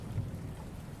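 Rain pours in the dark detective game Rainswept, a low, muffled rumbling wash of steady downpour, faint and continuous, with no voices over it.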